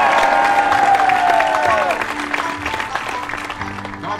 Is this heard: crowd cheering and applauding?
yes